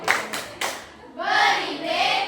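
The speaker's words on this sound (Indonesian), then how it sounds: "Oke, tepuk tangan untuk kelompok." A classroom group claps for a team of students in a physics lesson: a few sharp handclaps, then a fuller burst of applause from the class.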